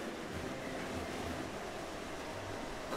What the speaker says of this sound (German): Ja, friedvolles Wasser.